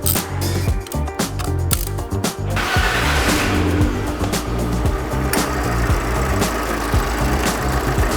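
A second-hand car's engine runs after servicing, a loud close mechanical hum with ticking and clattering pulses that shift partway through.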